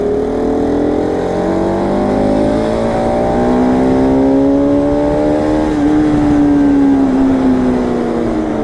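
A Bajaj Pulsar RS200 BS4 motorcycle engine revs under light throttle, loud and close, its pitch rising steadily and holding high, sustained without pause.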